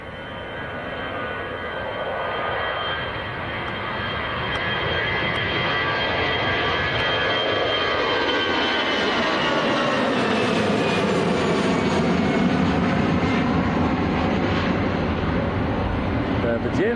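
An EasyJet passenger jet bound for Jersey takes off from Manchester Airport, engine roar building from a distant rumble to a loud sustained thrust with whining tones, with someone speaking over it.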